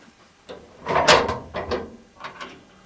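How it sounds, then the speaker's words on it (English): A metal gun safe door is opened up close, producing a series of clunks, rattles and mechanical clicks in uneven bursts, with no voice over them. "I'm going to open up the door here."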